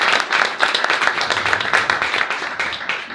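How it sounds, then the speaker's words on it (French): An audience at a morning professional event on digital technology and sobriety in building applauds, dense pulsing clapping from many people that carries on steadily throughout. "Si vous voulez bien applaudir."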